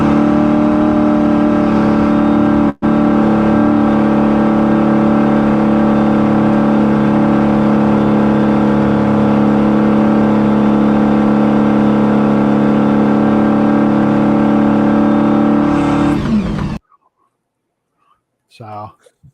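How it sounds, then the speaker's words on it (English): A truck engine revs hard and steadily in playback of a recorded video, a loud continuous roar with one brief dropout, then cutting off near the end into near silence with a faint sound. "So that's some videos of my truck going."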